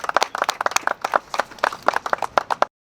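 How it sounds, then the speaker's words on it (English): An audience at a Palmetto Bay partner event gives a round of applause: dense, close hand clapping lasting a few seconds before it cuts off abruptly. "So let's give Mark a round of applause."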